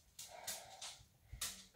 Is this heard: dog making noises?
yes